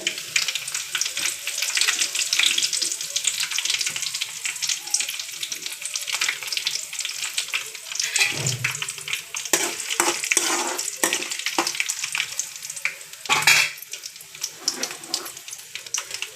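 Peanuts, urad dal and curry leaves crackling in hot oil for chitranna, a close bright sizzle with stirring scrapes and a few sharp spits and pops, no voices.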